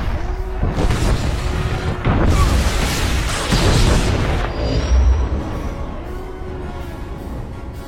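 Heavy booming blasts from incoming fire slam into a transport ship, with several deep impacts rolling over a continuous loud rumble and din, the strongest hits arriving about two and five seconds in.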